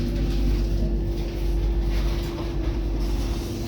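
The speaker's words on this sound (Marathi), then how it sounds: "ट्रेन थांबले." A Vande Bharat train slowing to a stop, a steady low rumble and hum inside the carriage, continuous and fairly loud, with no talking.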